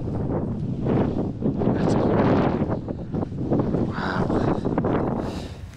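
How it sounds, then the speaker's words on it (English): Heavy wind buffeting the microphone in loud, gusty rumbles that rise and fall throughout. "excuse the wind noise. It is so windy,"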